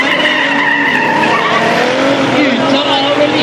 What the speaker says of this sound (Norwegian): Der har vi dieseldrosja inne, og Camaroen får nå lov til å stage inn.